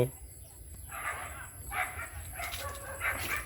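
Dog barks rise in short bursts over a noisy outdoor background near a fruiting papaya tree, fairly faint and distant, with a rooster or bird calling faintly at times.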